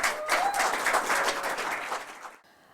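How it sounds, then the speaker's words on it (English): An audience applauds a startup founder at a London pitch battle, with steady dense clapping for about two and a half seconds before it cuts off abruptly into quiet. "Let's give her a round of applause, please"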